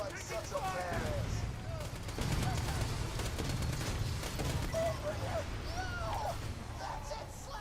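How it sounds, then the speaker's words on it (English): Loud, continuous gunfire and blasts fill a Borderlands 2 firefight, with repeated bursts and booming impacts over a dense low rumble while a voice talks over the chaos. "after you blast Boomerang, don't look at the explosion"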